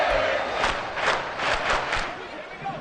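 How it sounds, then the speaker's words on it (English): A large football stadium crowd in an EA Sports video game roars and cheers continuously, swelling in several loud waves that stay up front throughout. "this crowd doing their best to make a lot of racket"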